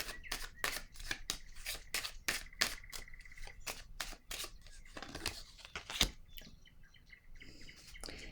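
Tarot cards are handled and drawn from the deck, giving a quick series of crisp paper swishes and flicks that thin out toward the end. Close and quiet, with a faint chirp-like tone in the middle.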